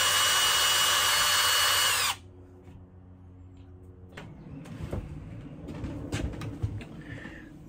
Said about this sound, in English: When you're more confident, you can drill.